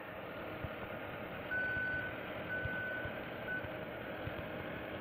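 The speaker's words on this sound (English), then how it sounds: "We just see this man in a big delivery truck." A big delivery truck reversing in the Roblox video game, sounding a steady repeating reverse beeper over a low idling engine, close and continuous.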